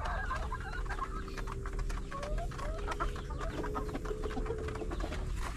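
Five-month-old breeder hens of the Ka Noypi flock cluck steadily in a farm pen, with repeated overlapping calls from several birds over a constant background hum.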